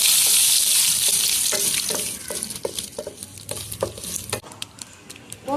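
Curry leaves, cumin and dried red chillies crackle in hot oil as a tempering, a loud sizzle that settles into rhythmic spattering pops and stirring scrapes.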